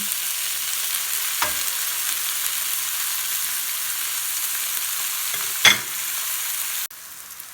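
Mushrooms fry in a pan with a continuous bright sizzle up close, broken by a couple of brief clatters from the pan or utensil, and no voices.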